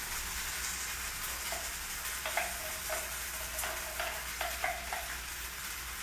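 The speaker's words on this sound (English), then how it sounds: "You can hear those beans sizzling." Black beans for tacos sizzle steadily in a pan, a soft, even hiss with a few faint light clicks and ticks of stirring scattered through, quiet and close with no talking.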